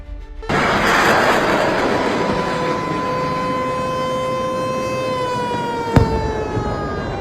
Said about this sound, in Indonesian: Sirene udara meraung tanpa henti.